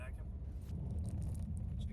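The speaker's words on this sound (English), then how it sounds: "There's a bit of chaos in traffic." Cars drive through busy city traffic in wartime Ukraine, heard as a low, continuous engine rumble with passing vehicles, while a person talks over it.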